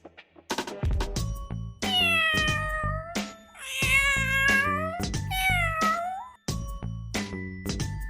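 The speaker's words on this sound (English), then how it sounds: "cat cat" A cat meows repeatedly, a series of loud, drawn-out, wavering cries with short gaps between them, clear and close with no talking over them.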